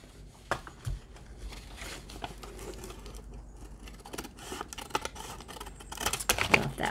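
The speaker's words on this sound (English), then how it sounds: "Cut off that part of the envelope there" Scissors snip through a paper envelope at a mixed media craft table in a series of scattered close clicks and cuts, with paper rustling and handling noises that build into a busier burst at the end.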